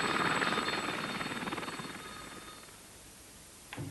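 An army training helicopter flies past with a rotor whine and rapid chopping beat, loud at first and then steadily fading into the distance.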